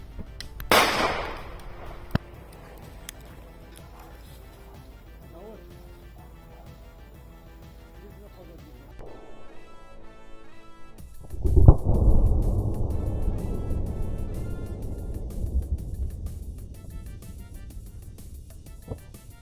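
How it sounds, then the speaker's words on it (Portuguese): About one gram of DADP explosive goes off in a detonation test, first as a sharp, loud crack near the start, then as a heavy boom later on with a long rumbling decay. No one speaks. "eu estou utilizando aí um pouco mais de 1 grama de DADP para poder fazer esse teste de detonação"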